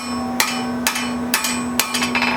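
A blacksmith hammers on a spring fuller tool, five sharp metallic ringing strikes at an uneven pace over a steady background hum, the last strikes followed by a quick cluster of lighter taps.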